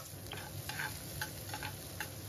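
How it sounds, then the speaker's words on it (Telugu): Chopped onion pieces and crushed garlic, added with tempering spices, fry in hot oil in a pan, giving a faint steady sizzle with occasional soft pops and a light stirring scrape. "ఇప్పుడు ఉల్లిపాయ ముక్కలు ఇవన్నీ కూడాను బాగా ఫ్రై అవనివ్వాలి"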